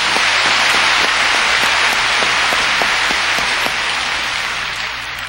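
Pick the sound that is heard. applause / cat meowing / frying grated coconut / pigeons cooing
applause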